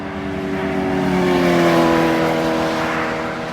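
Highway traffic rushes past a car stopped on the shoulder of Interstate 485 with a flat tire, a loud steady roar of engines and tires swelling and easing as vehicles pass close by, with no voices.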